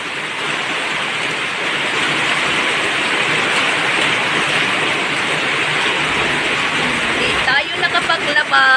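Heavy rain pours steadily onto a house and blows inside onto a hammock, a dense, loud, continuous hiss throughout, with some rattling patter toward the end.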